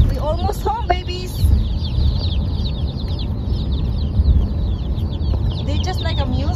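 Newborn chicks chirp constantly in a chorus of high, thin peeps, close and busy, over a low rumbling background as they are moved into their nursery.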